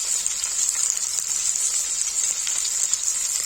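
Spinach for Kashmiri palak nadru fries in a pan with a steady, bright sizzle that holds evenly throughout at moderate loudness, with no talking.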